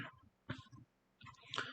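A tired lecturer coughing during a Korean math class, a few faint, short throat-clearing coughs in two small clusters with quiet gaps between.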